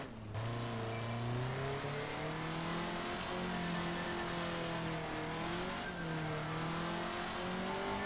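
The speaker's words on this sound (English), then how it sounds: "it sounds like an old race car" Fan-made car in the BeamNG driving game with an engine note like an old race car: a continuous revving drone that rises and falls through the gears, close and steady, with no talking over it.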